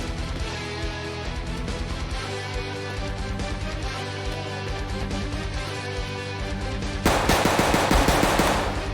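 Rapid automatic gunfire from a gun in the video game Escape From Tarkov, sustained bursts of loud, close shots that intensify into a denser, harsher volley near the end, with no talking.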